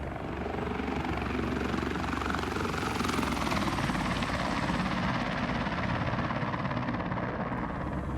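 A helicopter in the X-Plane flight simulator game drones with a steady, loud rotor and engine hum, continuous and unchanging, with no talk over it.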